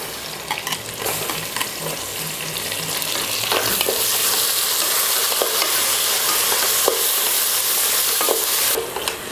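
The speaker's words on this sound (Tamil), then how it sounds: "வெங்காயம் வதங்கிருச்சு. இதில் தக்காளி சேர்த்துடலாம். 3 தக்காளி சேர்த்துக்கிறேன்." Tomatoes and onions with green chillies frying and being stirred in a pan for vegetable biryani, a steady close sizzle with scraping stir strokes throughout, no talking.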